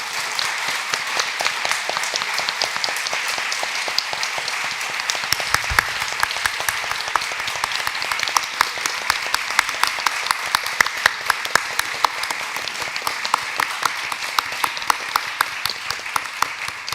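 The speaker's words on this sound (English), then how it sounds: "let's give them a big round of applause." Sustained applause from a sizable audience at the finals of an international mediation competition, steady and dense throughout with a few louder individual claps standing out.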